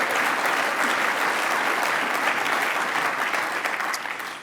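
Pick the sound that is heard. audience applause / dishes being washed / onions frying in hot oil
audience applause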